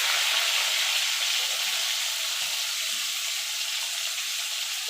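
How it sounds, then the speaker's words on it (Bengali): Pointed gourd pieces frying in oil over low to medium heat, giving a steady, even hiss of sizzling throughout, close and alone. "এবার পটলগুলোকে আমি ভেজে নেবো"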